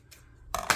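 Scissors snipping paper scraps for craft embellishments, heard as two quick, crisp cuts close by after a brief quiet moment.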